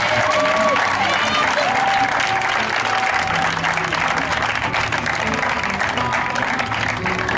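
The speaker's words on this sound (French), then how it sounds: "Acclamez le Seigneur de ce que ça va marcher pour nous" A church congregation at a Sunday service bursts into sustained applause and cheering, dense continuous clapping with shouts and whistles throughout, loud and close.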